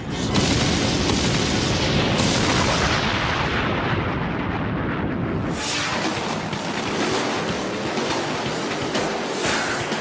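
Simulated nuclear weapon explosion, a sustained loud rumbling roar with booming blasts, dense and continuous without any talk.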